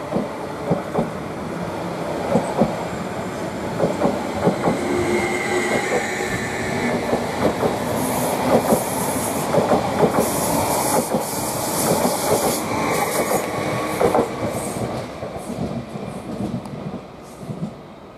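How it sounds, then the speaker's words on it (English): A Greater Anglia train pulls out of Manningtree station as the 12:28 service to Norwich, with a continuous loud rumble, rhythmic wheel clatter and a high metallic squeal rising partway through, heard close from the platform. "Now the 12:28 service to Norwich is just now departing."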